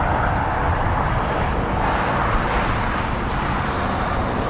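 An Embraer Phenom business jet passes overhead near RAF Waddington, a loud, continuous broadband engine rush that holds steady throughout with no voices.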